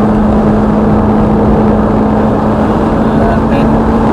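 Loud, close engine drone of a Ferrari F430 accelerating on a racing circuit, a steady low tone with a strong wind-roar wash over it, continuous throughout.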